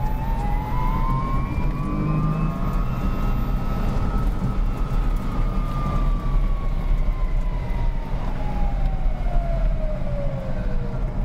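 A VMC Everest highway-ready electric truck drives with a steady high-pitched motor whine that rises and falls gradually in pitch over a constant rumble of road noise.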